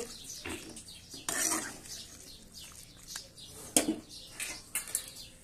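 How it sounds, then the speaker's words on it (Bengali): Chicken being stirred and sautéed in a pot on a gas stove for handi chicken, with intermittent scraping and clinking of a spoon against the metal, a few louder knocks standing out over a low sizzle. "ভালোভাবে আমি কষিয়ে নাড়িয়ে দিচ্ছি"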